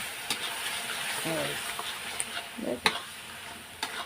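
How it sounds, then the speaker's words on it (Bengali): Eggs sautéing in a pan with turmeric and Kashmiri chilli powder give a soft steady sizzle, broken by a few scraping stirs and sharp clinks of a utensil against the pan, with brief murmured voice. "এদিকে ডিমটাও ভাজা হয়ে গেছে তাই এটা এখন কষিয়ে নেবো আগে"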